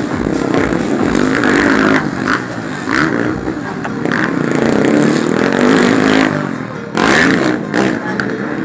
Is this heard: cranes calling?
no